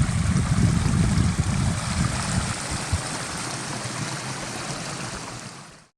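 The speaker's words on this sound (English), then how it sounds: "There's a lot of runoff right now." Snowmelt runoff rushes down a stream beside a mountain trail in Roosevelt National Forest, a steady close broadband wash of water that fades out at the end.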